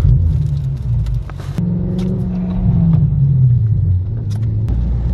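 A tuned 800 horsepower manual BMW M6 Gran Coupe with loud exhaust fires up, with a sharp start burst followed by a deep, steady rumbling idle that dips slightly, close and loud with no talk.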